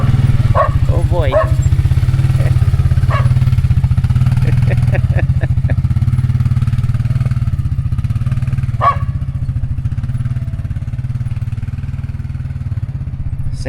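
A quad ATV engine runs steadily and close by on Stoneman Lake Road at a dispersed campsite, a constant low drone, while a few short voices and yelps come through over it.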